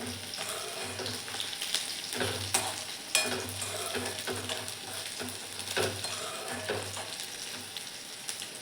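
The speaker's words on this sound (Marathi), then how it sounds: "हे बघा व्यवस्थित तळून झालेत आपले कारले." Bitter gourd pieces fried in a pan give a continuous close crackling sizzle with intermittent stirring scrapes and clatters, with no one talking over it.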